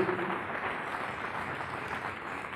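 Audience at an accessibility awards ceremony applauds, with steady, moderately loud continuous clapping throughout.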